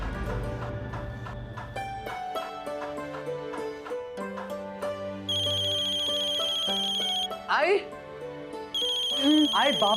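Repeating electronic phone ringtone announcing an incoming call, loud and close, with a melodic chime pattern over a music bed and brief voices speaking in between.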